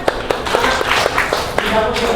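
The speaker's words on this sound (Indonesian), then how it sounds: "Beri tepuk tangan." A classroom at SMPN 4 Bogor claps for students, a handful of distinct, fairly loud claps in an irregular rhythm mixed with talking voices.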